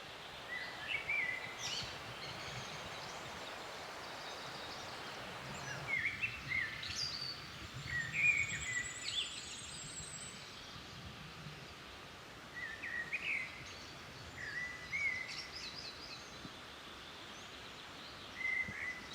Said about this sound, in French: Merle, grive, pinson, grimpero, mésange chantent pour délimiter leur territoire, pour trouver un partenaire.